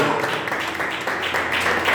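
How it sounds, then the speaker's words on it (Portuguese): A congregation claps in worship during a Wednesday church service, a dense, continuous patter of many hands at moderate loudness with a faint voice mixed underneath. "Adore o Senhor nas suas palmas"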